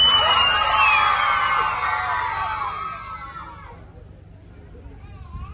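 A group of children at a summer Quran course shout loudly together in a sustained burst of voices, fading after a few seconds to quieter background murmur.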